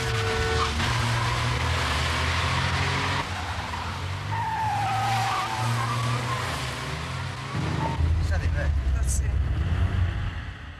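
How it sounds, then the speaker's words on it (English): An Escort getaway car swerving and skidding onto Oxford Road, with sustained tire squeal and engine roar over about ten seconds, a near-collision with another car, and someone narrating over it. "The robbers swerved into Oxford Road, almost colliding with another car."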